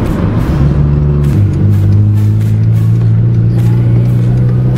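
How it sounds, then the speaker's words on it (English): A silver Honda Ballade's loud exhaust drones in fourth gear at a steady pitch that drops slightly mid-way, with a rough, throaty rumble throughout. "Fourth gear sounds quite loud as well."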